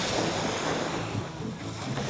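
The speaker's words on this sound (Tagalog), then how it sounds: "At dito matiwasay yung dagat." Calm sea at Paniman Beach in Ternate, Cavite, gives a continuous soft wash of gentle waves mixed with steady wind buffeting the microphone, with no voices.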